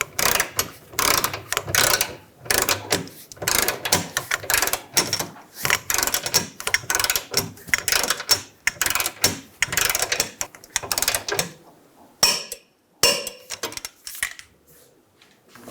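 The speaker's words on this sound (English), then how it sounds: "Torque the eccentric bolt to 107 foot-pounds." Torque wrench tightening the rear lower control arm bolts on a 2011-2014 Hyundai Sonata, rapid ratcheting clicks in repeated bursts with short pauses between them, loud and close.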